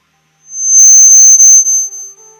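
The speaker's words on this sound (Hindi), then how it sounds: "एक अलार्म ये बज रहा है" A tonal alarm sounds close and loud, a single sustained electronic beep tone that rises in and wavers briefly before fading over about two seconds.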